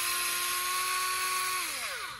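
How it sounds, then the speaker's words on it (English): A powered T10 screwdriver unscrews a screw from a Mercedes Distronic distance control unit, its motor whirring steadily at close range for about 1.5 seconds before winding down in pitch as it stops. "unscrew three more screws"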